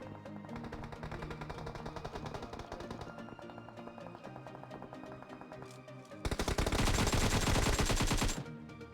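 Gunfire from two teams fighting in PUBG Mobile: rapid automatic bursts and single shots crackle at a distance, then a loud, dense volley erupts close by for about two seconds before fading.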